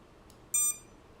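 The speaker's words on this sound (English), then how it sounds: "That stops the beeping" An FPV drone running BetaFlight beeps while its motors are armed, a short high-pitched electronic tone with a faint blip before it, close and clear against a quiet room.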